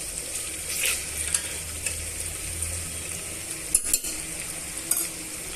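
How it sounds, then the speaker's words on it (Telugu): Ginger garlic paste fries for chicken biryani, with a steady close sizzle under repeated stirring and a few sharp scrapes and clinks of a utensil against the pan, no talking. "ఇప్పుడు ఇవన్నీ కూడా దూరగా వేయించేసుకుందామండి"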